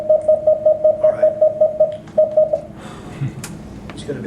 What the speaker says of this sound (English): it was a way of sending code faster, Morse code much faster